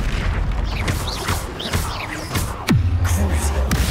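Bombarda explosion spell in the Hogwarts Legacy video game, a heavy booming blast amid busy combat effects with magical whooshes and crackles, followed by a low rumbling tail.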